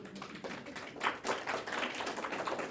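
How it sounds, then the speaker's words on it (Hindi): Audience clapping in a spiritual class hall at Mount Abu, a continuous patter of many hands at fairly steady, moderate loudness with no talking over it. "बीच बीच में ताली बजा सकते हैं, ताली बजाओ"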